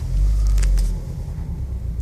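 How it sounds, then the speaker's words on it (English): A Subaru WRX STI premium model starts by push button with the clutch depressed, giving a loud low engine rumble that fades after about a second into a steady, quieter idle. "Push button start, foot on the clutch,"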